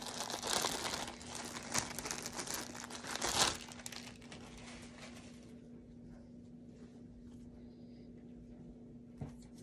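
Inuyasha loot crate packaging being ripped open, loud crinkling and tearing bursts over the first few seconds, then quieter rustling of plastic and cardboard.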